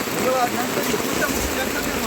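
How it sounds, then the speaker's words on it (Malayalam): Heavy rain pours steadily in Kerala, a dense, even hiss that fills the whole moment without a break. "നല്ല പൊരിഞ്ഞ മഴ ഇവിടെ"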